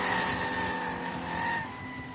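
A high-revving drift car engine screams steadily and loudly at a drifting competition, holding a sustained whine with slight pitch shifts and some tire noise underneath.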